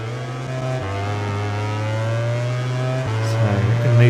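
Aprilia racing motorcycle in MotoGP 20 screaming at high revs, a steady loud engine tone dropping briefly with each gear shift and climbing again, alone with no talk.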